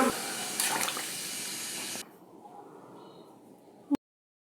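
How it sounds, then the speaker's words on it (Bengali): Water is poured steadily into a pot of chicken curry with potatoes for the gravy, a continuous splashing rush that stops abruptly halfway. A quieter lull follows and ends in a single sharp knock. "এখন ঝোলের জন্য পানি দিয়ে দিব"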